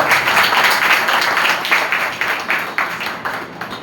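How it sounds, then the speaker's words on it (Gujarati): Applause rises for a family being welcomed at a temple celebration marking the anniversary of a deity's installation: dense, steady clapping from a crowd that fades gradually toward the end, with no talk. "પરિવારને તાળીઓથી વધાવો"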